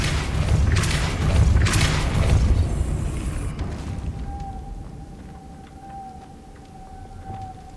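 A Depulso spell goes off in Hogwarts Legacy as a loud, booming magical blast with a whooshing roar that fades into a quieter, thin ringing tone and a low ambient hum.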